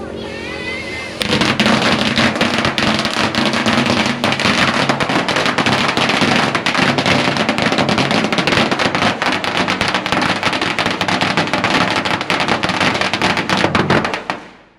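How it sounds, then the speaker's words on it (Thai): Firecrackers set off at a Thai temple after worship crackle in a dense, loud continuous barrage for about thirteen seconds, beginning abruptly and cutting off near the end. "จุดประทัดนะครับ"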